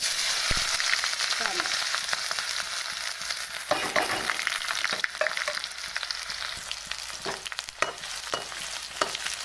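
Cumin, green chilli and garlic sizzling in hot oil, a dense and steady frying hiss throughout with sharp crackles and pops, and occasional clinks of a utensil stirring the pan; no voices.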